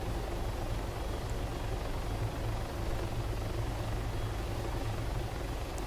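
An MH-6 helicopter in the military game ArmA 3 drones steadily with a constant low rotor thrum and engine whine, loud and unbroken, with no voices over it.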